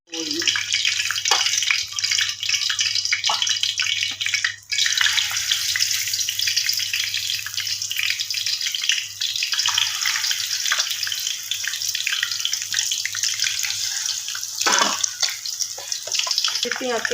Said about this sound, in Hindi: ऑयल पहले मैंने गरम होने रख दिया था। अब वो गरम हो रहा है थोड़ा